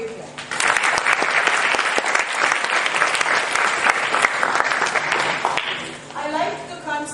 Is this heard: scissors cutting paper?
no